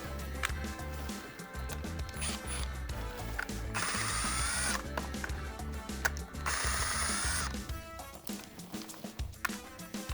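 A power driver removes screws from the arm of a Steelcase office chair. Close and loud, it whirs and ratchets in long runs separated by brief pauses.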